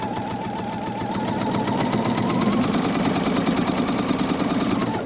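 A sewing machine fitted with a walking foot stitches a quilt block in a loud, steady mechanical whir with rapid rhythmic needle clatter, running continuously and rising slightly in speed, with no talking.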